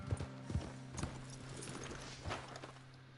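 A horse trots in Red Dead Redemption, its hooves giving a handful of soft, evenly spaced clip-clops at moderate distance over a faint steady backdrop.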